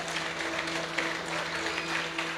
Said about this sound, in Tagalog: Sige po, yung malakas na palakpak para kay Lord.